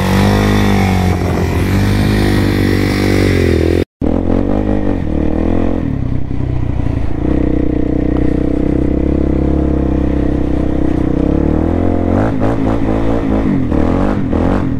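A quad ATV engine runs loudly on ice and snow, a close, rough, continuous drone with revving swells and a brief dropout partway through, no speech.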